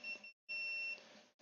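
Electronic beeps from an aquarium tank heater controller set at 75, two loud sustained high tones separated by short silences, close and alone.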